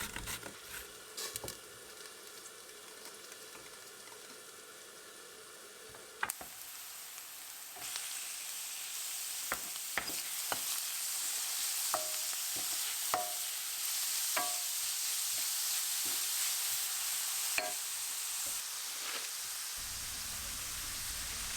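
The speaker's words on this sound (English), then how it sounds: "saute until I have some nice golden color" Onions sauté in a pan on a home stove, the pan's soft sizzle steady and close, broken by scattered clicks and taps of a utensil stirring.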